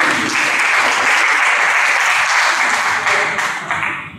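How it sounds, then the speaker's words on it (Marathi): Dense, loud applause from an audience at a Marathi literary gathering in Andheri, sustained clapping that fills the room and begins to taper off near the end. "जोरदार टाळ्या वाजल्या पाहिजे."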